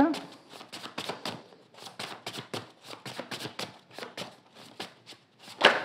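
Tarot cards are riffled and tapped in a quick, irregular series of crisp flicks, close and moderately loud, with a sharper slap near the end and no talking over it.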